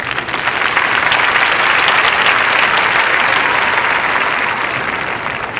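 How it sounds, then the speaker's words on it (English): Sustained audience applause at a debate, a full crowd clapping loudly and evenly, holding steady before easing slightly at the end. "Let's give them a round of applause."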